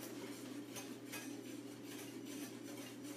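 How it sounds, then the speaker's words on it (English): A whisk beats ingredients in a bowl for a beet recipe: a steady, close scraping and swishing with faint metallic ticks, continuous for a few seconds with no talk. "We'll whisk it up quickly."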